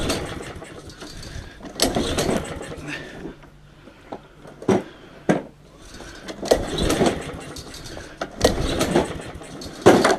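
A Honda lawn mower is cranked again and again by its pull cord in several uneven bursts, close by, but it never fires or catches. Someone talks between the attempts.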